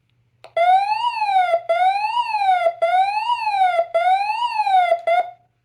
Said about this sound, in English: I really like the siren this has